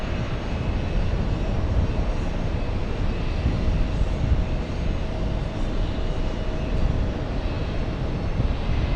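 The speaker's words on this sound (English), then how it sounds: "go over to the 747, Lufthansa 401, flying back to Frankfurt" A Lufthansa Boeing 747 takes off at JFK, its engines a broad, steady roar heavy in the low end with a faint tonal hum, loud and sustained without a break and no voices.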